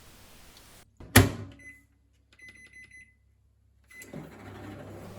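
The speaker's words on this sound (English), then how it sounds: "warm up the Prime in the microwave" A sharp clunk of a microwave door, a few electronic beeps, then the low steady hum of the oven running as it warms Prime hydration drink.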